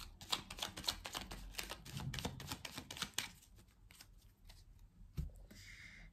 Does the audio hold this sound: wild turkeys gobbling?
no